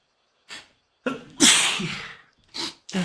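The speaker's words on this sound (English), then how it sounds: "Sneezing." A character sneezes in the horror mystery game PARANORMASIGHT, a sharp close sneeze burst followed by breathy sniffles and short gasps, loud and alone with no talking.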